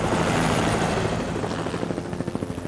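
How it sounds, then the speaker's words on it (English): A search helicopter flies over a wilderness valley, its steady rotor drone loud and continuous with a rhythmic blade chop emerging toward the end, no voices present. "The helicopter crew decides to search another part of the valley."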